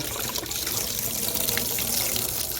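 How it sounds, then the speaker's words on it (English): Homebrew liquid swirling and gushing out of a spun bottle during bottling-day sanitizing, a continuous loud rushing, splashing pour like a running tap, close up and with no talk. "to get any liquid out of a bottle, take it, and spin it, like so,"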